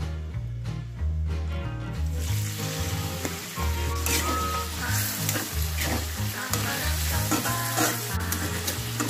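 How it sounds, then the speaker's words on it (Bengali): Chopped onions and cardamom frying in an aluminium kadai, a constant loud sizzle with stirring scrapes, while background music plays along under it. "এবার আমি পেঁয়াজ কুচিগুলো এর মধ্যে ছাড়বো"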